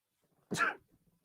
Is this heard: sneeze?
yes